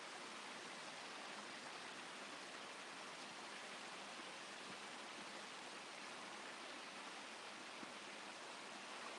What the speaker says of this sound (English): I'm at the creek.